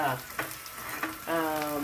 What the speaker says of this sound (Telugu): ఇలా వేయించుకొని చక్కగా తాలింపు పెట్టేసుకుంటే పప్పు గుమగుమలాడుతుంది